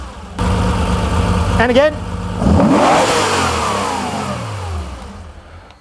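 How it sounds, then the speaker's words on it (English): Porsche 911 2.8 RSR engine being blipped on the throttle during dyno diagnosis, idling then rising sharply in a loud rev that sweeps up and slowly falls back, with a brief spoken line near the start. "Just give it blips of the throttle and see if it works."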